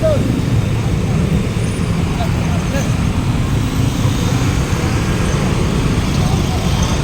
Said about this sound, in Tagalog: Sobrang traffic na dito.